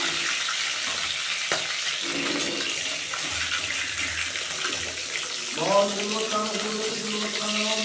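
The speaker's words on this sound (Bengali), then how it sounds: "একে একে সব মাছগুলো ভেজে নেব" Fish pieces fry in a pan of oil, making a continuous watery hiss and crackle close by, with someone talking over it and a brief clink or stir toward the end.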